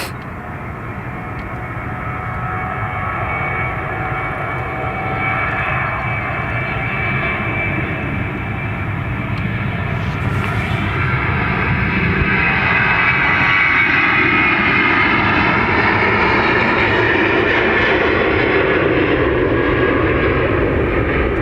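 An Airbus A330-800 with retrofit winglets moves on runway 28 right at Dublin Airport, its jet engines a loud, sustained roar that swells gradually over about twenty seconds, with no voices.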